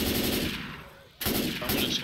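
Loud, close shotgun blasts in Left 4 Dead 2 come as a burst, a brief pause, then another burst of fire.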